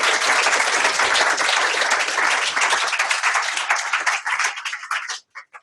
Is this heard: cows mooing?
no